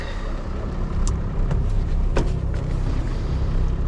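A ZIL-130 truck pulling away on rough roads in the Rivne region, a steady low engine rumble that swells slightly as it gets going, with faint rattles and knocks over the drone.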